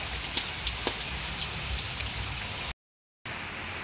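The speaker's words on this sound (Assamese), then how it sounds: "আৰু বৰষুণ বহুত দিছে," Heavy rain pours down in Guwahati, a steady dense hiss with scattered drips, broken by a brief gap of silence before the downpour resumes.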